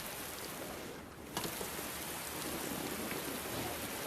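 Steady rain falls, a dense even hiss that continues without a break and briefly dips before returning at full strength.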